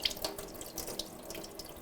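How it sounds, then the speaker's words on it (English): Cold tap water runs into a sink while potatoes are scrubbed by hand, a soft continuous splash with small irregular bursts and drips, fairly quiet and close, no voices. "Just wash them with your hands under the running water."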